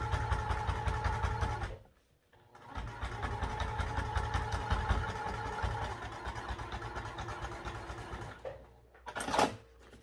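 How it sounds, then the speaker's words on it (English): A sewing machine top stitching on cork with a long stitch length runs in a steady mechanical whir, pausing briefly near the start and again near the end, close and without speech. "I suggest using a longer stitch length for your top stitching on cork or vinyl."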